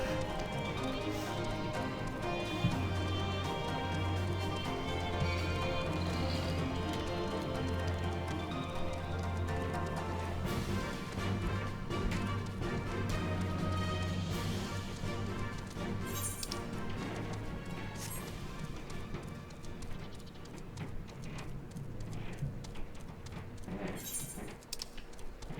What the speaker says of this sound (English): Why did they make horse noises?